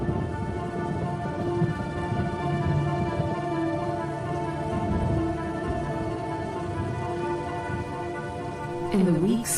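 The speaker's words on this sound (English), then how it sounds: "the rains continued to fall in a ceaseless torrent" Heavy rain falls in a ceaseless torrent on the African plains, a dense, steady hiss of drops with faint distant rumbles beneath, holding unbroken throughout.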